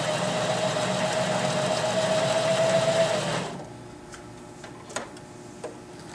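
A Janome HD3000 sewing machine runs a wide decorative stitch with a steady, loud mechanical whir for about three seconds, then stops, leaving a quiet room with a few faint clicks.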